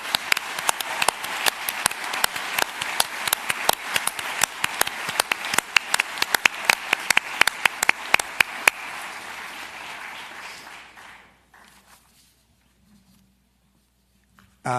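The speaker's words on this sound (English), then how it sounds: "Please join me in a round of applause for our special category award winner" Ceremony guests applaud a special category award winner with a thick wash of clapping that carries on for several seconds, then thins out and fades into near silence.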